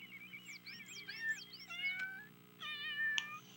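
Kitten character meowing in a video game: a run of short, high, close meows over a low background hum.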